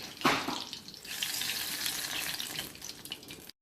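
Pakoras, gram-flour fritters with green chilies and banana, frying in oil over low to medium heat, giving a close, steady bubbling sizzle that opens with a brief splashy burst and then cuts off abruptly.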